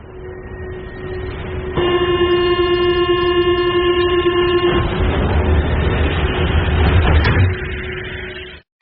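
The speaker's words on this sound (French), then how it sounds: "Celui-là, c'est spécifiquement la ligne 14 à Paris, qui a ce son un peu comme ça." Paris métro line 14 train, its distinctive tonal electric whine holding steady for several seconds over a rumbling run, then fading into rolling wheel noise and track rumble; loud and close, no voices.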